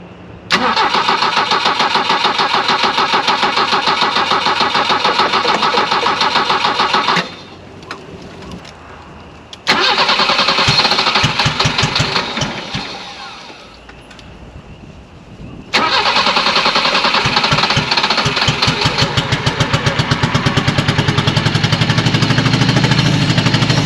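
A BMW E21 that sat for over twenty years cranks and catches, running roughly on only a few cylinders with an uneven, loud, close chugging, dropping out twice before restarting.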